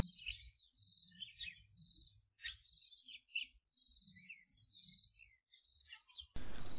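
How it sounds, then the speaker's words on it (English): Small birds, including a grey-headed sparrow and weavers, chirp around a garden pond in repeated quick high twitters, fairly near and steady throughout, with low rumbling in the background and a burst of noise at the very end. "the first bird brave enough to come and have a bath this summer is this little grey-headed sparrow"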